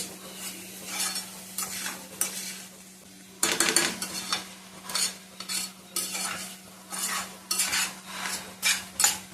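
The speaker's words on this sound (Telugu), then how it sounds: "ఇప్పుడు బాగా కలిపేసుకుందాం" A metal utensil stirs egg curry with fried onions and turmeric in a sizzling pan, with repeated close scrapes and clinks in an uneven rhythm over a quiet frying hiss.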